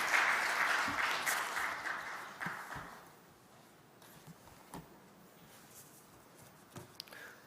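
A church congregation at a Wednesday night worship service gives its preacher a round of applause, loud at first, then quickly thinning to a few scattered claps and quiet room noise.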